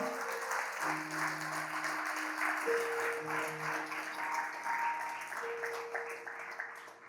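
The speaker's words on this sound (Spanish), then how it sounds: "Dale un fuerte aplauso al Señor." Congregation applauding during a Spanish-language church service, a broad wash of clapping that stays steady, with sustained organ or keyboard tones underneath and no talk over it.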